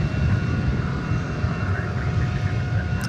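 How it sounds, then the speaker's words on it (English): An American Airlines Airbus A321 departs at night from DFW Airport, its engines producing a steady, loud broadband roar that holds constant throughout with no voices. "It's a Airbus A321 off to Salt Lake City."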